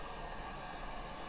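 A heat gun blows on nylon in a steady, close, airy rush of hot air for just over a second, with no talk.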